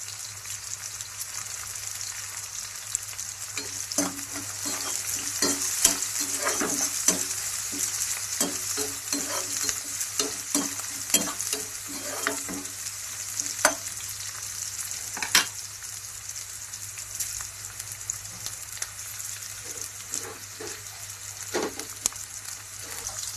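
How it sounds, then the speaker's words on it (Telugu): Curry leaves and onions fry in a pan with a steady crackling sizzle, punctuated by frequent scraping and clacking stirs throughout, close and fairly loud, with no talking. "కరివేపాకు రెమ్మలు వేసుకుంటాము."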